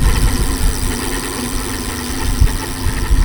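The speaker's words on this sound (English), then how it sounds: "So when you keep on up the speed, the faster the bike goes." An e-bike runs at speed over Jamaican terrain, giving a steady, loud motor-and-rumble drone with rough vibration and wind throughout, with no talking.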